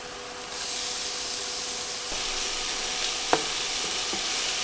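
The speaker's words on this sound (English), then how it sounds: "I'm going to go ahead now and add my minced onion." Minced onion sizzles steadily in a hot pan while lasagna-stuffed jumbo shell filling is being cooked, a continuous frying hiss with a few soft stirring scrapes and one sharp clack near the end.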